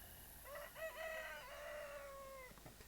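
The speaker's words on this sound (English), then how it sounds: "cock-a-doodle-doo" A rooster crows at dawn in the Recycling Center Simulator video game, one clear drawn-out cock-a-doodle-doo heard faintly and alone.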